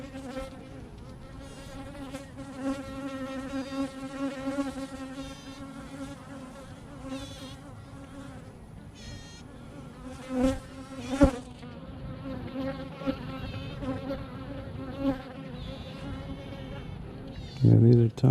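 Honey bees in an open beehive during a week-five inspection keep up a steady, close, droning buzz. A few louder passes sweep past the ear and some light handling knocks break in, with no talk.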